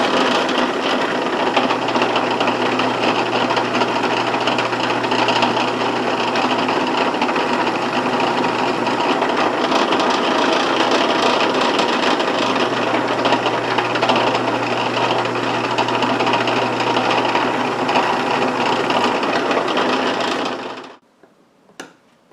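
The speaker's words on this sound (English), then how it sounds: "pretty simple, just drilling holes" A drill bores steadily into wood while holes are made for a guitar neck, giving a continuous, even whirring buzz with a faint low hum, loud and close for about twenty seconds before stopping abruptly.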